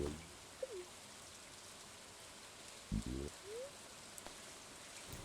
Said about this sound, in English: it's raining the entire time